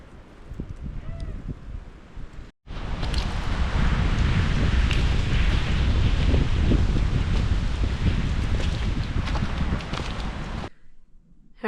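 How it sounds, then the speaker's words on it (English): Strong wind buffets the microphone in a long, loud, steady roar, with rustling over it, outdoors on an opening-day deer hunt in the Maine woods, preceded and followed by quieter moments. "it's so windy that they can't hear anything, and the wind is so strong, blowing at my face all the way in"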